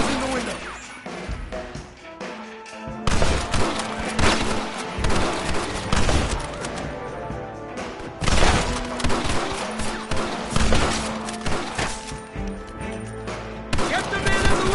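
Gunfire in Red Dead Redemption: dense, continuous shooting with crashes and sharp shots layered together, loud and close, and voices partly buried underneath.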